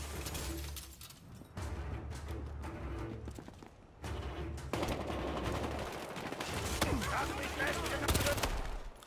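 Game gunfire in Battlefield Hardline, with bursts and single shots crackling through a dense, continuous mix of combat noise, while a player's voice talks over it in stretches.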